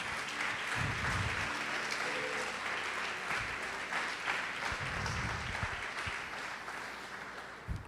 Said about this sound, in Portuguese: Pode aplaudir, glorificar o Senhor Jesus.